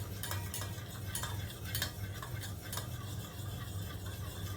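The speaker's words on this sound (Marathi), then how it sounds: "हे सर्व दही मिक्स केल्यावर आपल्याला हे फेटणं घ्यायचं आहे" Curd being whisked into milk in a bowl while setting thick homemade yogurt, a steady soft scraping and stirring with quick light clicks of the whisk against the bowl, faint and close, with no talk.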